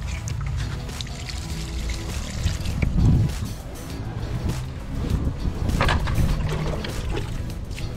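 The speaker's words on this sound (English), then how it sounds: "Marvin has finished watering his thyme" Water trickles and pours steadily from a watering can onto thyme plants in a garden, a soft continuous splash with a few louder gushes.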